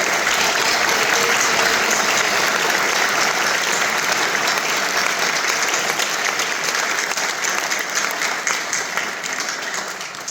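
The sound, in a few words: audience applause at a high school awards ceremony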